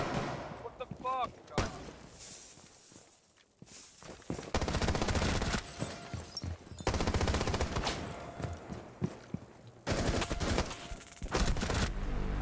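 Hip-fire gunfire in Rainbow Six Siege: loud, rapid automatic bursts broken by short pauses, with faint footsteps and background game noise between them.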